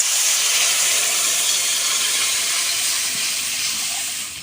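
Potatoes frying in oil for a fish curry burst into a loud, sustained steamy hiss as water is added, holding steady and easing off slightly at the end.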